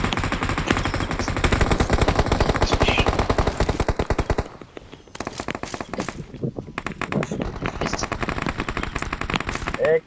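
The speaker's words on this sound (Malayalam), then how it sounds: "എന്റെ നേരെ വെടിവെക്കുന്നുണ്ട്." Rapid automatic gunfire from the BGMI battle-royale video game rattles loudly in dense bursts, breaking off briefly midway before further sustained shooting resumes.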